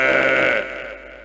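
A man imitates a buffalo with his voice as a mimicry demonstration, giving one short, loud, nasal bleating groan that fades after about half a second.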